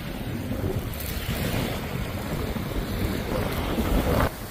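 Steady wind buffeting the microphone on a cool, blustery beach, a continuous roar with surf-like wash underneath, loud and unbroken throughout with no one talking.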